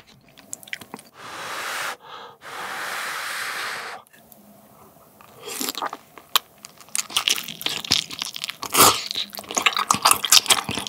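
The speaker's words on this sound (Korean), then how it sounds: "만두 하나 먹어보자." Close-miked chewing of a potato dumpling eaten with sundubu yeol ramen, with soft squishy bites and wet mastication sounds arriving in bursts after a few quiet pauses, and no talking.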